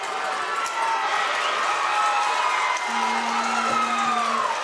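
Crowd at a high school football playoff semifinal, heard from a distance: a broad, steady roar of cheering and shouting that runs the whole time with no breaks.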